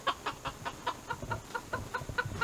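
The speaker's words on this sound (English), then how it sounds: "These are our meat chickens. They're actually Cornish cross chickens." Cornish cross meat chickens clucking nearby in quick repeated bursts, a steady rhythmic series of short calls with a soft low murmur underneath.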